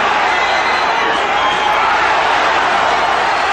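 A boxing crowd roars steadily at the Ray Mercer vs Tommy Morrison heavyweight fight, a dense, loud wash of cheering and shouting that holds without a break.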